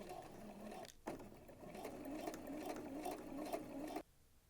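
A sewing machine stitches a fabric strip onto a seam allowance for a Hong Kong finish in one steady mechanical whir, with a short break near the start, then stops abruptly near the end, close and with no voices.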